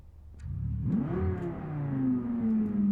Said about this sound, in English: Very nice engine note on this one.